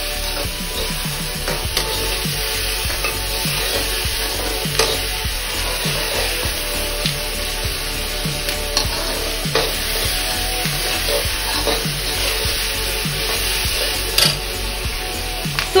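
Chilli paneer sizzles steadily in a hot pan while it is stirred, North Indian style, a dense continuous frying hiss with frequent scraping strokes of the spoon, close and loud with no talking.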